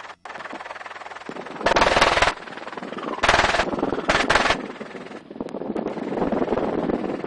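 An FN M249 SAW is fired from a gunship helicopter over Nevada in three loud, rapid bursts, short and sharp, against a continuous roar of rotor and wind noise.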